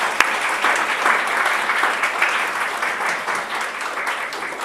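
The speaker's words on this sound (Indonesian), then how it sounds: "mari kita memberikan aplaus" A congregation at a church wedding blessing claps together, a steady, close wash of applause that holds at even volume for several seconds and eases slightly toward the end.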